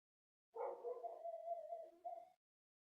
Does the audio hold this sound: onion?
no